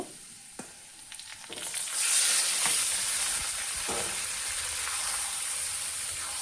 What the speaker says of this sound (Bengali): এখন একটু নাড়াই নিব ভালো করে নাড়া দিতেছি